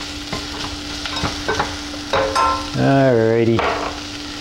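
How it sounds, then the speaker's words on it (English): Food sautés in a hot pan on a home cooking show while soup is made, a steady close sizzle with scattered stirring clicks, a short spoken word and a brief rising whistle-like tone near the end. "Sauteing up there."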